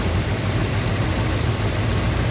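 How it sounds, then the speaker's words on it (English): A muscle car engine revs up from idle in neutral, a steady loud low rumble that holds evenly throughout without any talk. "when I rev up the engine"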